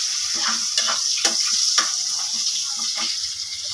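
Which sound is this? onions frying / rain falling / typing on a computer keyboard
onions frying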